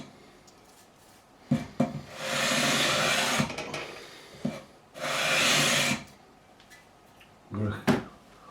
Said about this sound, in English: I'm going to hardly touch the sandpaper at all.